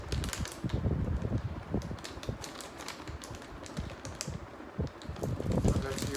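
Packet of Weikfield cheesy creamy pasta being torn open by hand, heard close as a burst of crinkly plastic rustling and sharp tearing crackles spread over several seconds.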